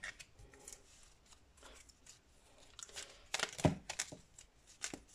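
A deck of oracle cards is cut and handled up close, soft scattered card slaps, rustles and papery flicks, quiet and irregular, with no talk.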